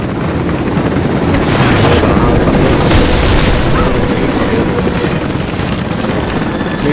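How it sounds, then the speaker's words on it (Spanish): A helicopter in Rise of the Tomb Raider roars loudly and steadily throughout, its dense rotor thrum filling the scene with a faint voice beneath it. "Bueno, el helicóptero todavía sigue detrás nuestro."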